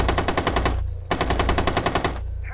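Automatic gunfire from a Rainbow Six Siege match on the Chalet map, with two loud, rapid bursts of shots separated by a short pause.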